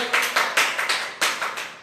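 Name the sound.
applause, clapping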